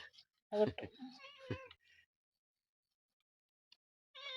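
A cat meows close by for fish, giving a few short tonal calls in quick succession before falling quiet, with a faint sound near the end.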